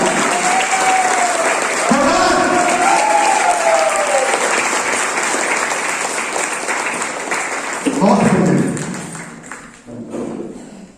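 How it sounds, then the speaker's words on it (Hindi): A crowd at a company tour event in Jim Corbett National Park applauds in a loud, continuous wash of clapping, with voices audible over it and a brief swell near the end. "और बड़ा ताली हो जाए"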